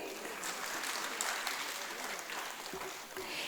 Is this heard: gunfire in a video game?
no